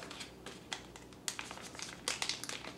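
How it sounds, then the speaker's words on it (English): Crisp, irregular crinkling of a plastic bag, with scattered sharp rustles building toward the end; close and fairly quiet. "It's a plastic bag."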